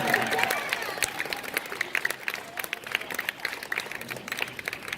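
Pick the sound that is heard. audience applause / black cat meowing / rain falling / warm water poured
audience applause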